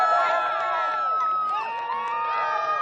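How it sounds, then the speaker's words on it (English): Blue Origin employees gather to cheer on the New Glenn rocket's maiden flight from LC-36 at Cape Canaveral, with crowd shouts and whoops in a continuous, bright din. "Another day, another employee gathering to cheer on New Glenn."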